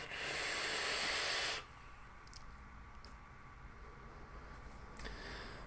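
A long, steady hiss of vapor drawn from an e-cigarette at 80 watts for about a second and a half, then quiet room tone with faint clicks.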